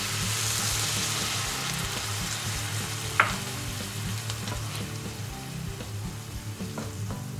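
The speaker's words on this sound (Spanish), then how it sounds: "Sofreímos las verduras con un poquitín de sal. Cuando veamos que empiezan a estar un poco blanditas, incorporamos el vino." Vegetables sautéing with a little salt in a pan after wine is poured in, giving a steady close sizzle with a sharp hiss partway through and faint stirring scrapes, no voices.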